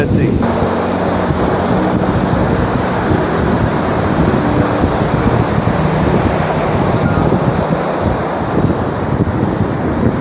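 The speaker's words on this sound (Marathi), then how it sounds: "आता पाणी थोडं थोडं लाटा मागे मागे जातात" Sea waves washing ashore at Rajodi beach in Vasai around sunset, a steady broadband roar of surf mixed with heavy wind buffeting the microphone, continuous and fairly loud throughout.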